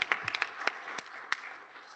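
A small scattering of claps breaks out at a stadium authority public meeting, a few sharp, uneven hand slaps fairly close, thinning out and fading over two seconds with no voices on top.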